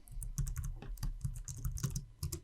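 Rapid keystrokes clatter on a computer keyboard while working in Excel, a dense run of quiet clicks in uneven bursts, close and soft with no voices.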